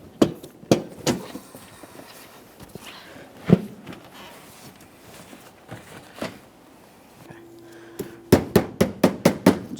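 A front bumper cover on a GMC Acadia (2017-2024 model) is tapped into place, scattered sharp knocks early on and then a quick rhythmic run of about seven firm taps near the end, close by.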